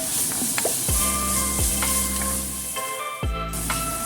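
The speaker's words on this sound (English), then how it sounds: "Stir to mix everything well." Tofu stir-fried with sugar, light soy sauce and oyster sauce in a pan gives a steady close sizzle, with a few sharp scrapes of the spatula breaking through as the mixture is stirred.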